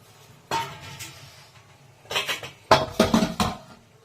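Boiled pitha is tipped out into a metal pot, producing a few sharp clanks and scraping clatters of cookware in quick bursts, the busiest cluster coming near the end, against a quiet background.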